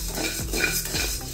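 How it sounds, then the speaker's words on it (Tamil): Coriander seeds crackle and rattle while dry roasting in a pan for rasam podi, a close, steady scratching with stirring scrapes and light sizzle, no voices. "இப்போ பாருங்கள், சட சடன்னு ஒரு சத்தம் கேட்குது."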